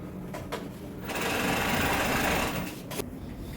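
An overlock sewing machine sews the sleeve band on a hoodie, with a close steady whirring burst in the middle, bracketed by quieter handling and brief clicks.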